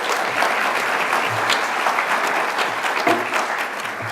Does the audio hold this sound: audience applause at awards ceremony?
yes